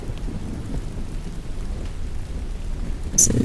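Steady rain with low rolling thunder fills the background as a continuous, even storm ambience, with a brief brighter crackle near the end.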